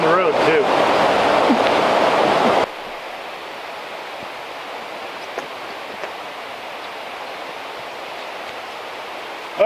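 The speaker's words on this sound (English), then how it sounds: "That river's pretty loud." The loud Cispus River rushing nearby, a dense roar of flowing water that abruptly falls to a softer, steady hiss after a few seconds.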